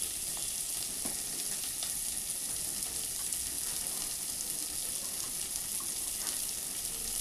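Chilli, turmeric and other spices fry in a pan for a cabbage and fish-head curry, giving an even, continuous hissing sizzle with small pops throughout, with no talking.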